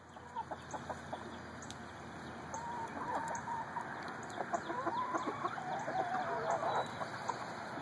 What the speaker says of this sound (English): The chickens are eating something out of the bucket.